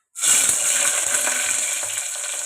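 Mustard seeds, cumin, green chillies and onions sizzle steadily in a hot pan for tomato dal, a loud continuous crackling hiss with small pops throughout.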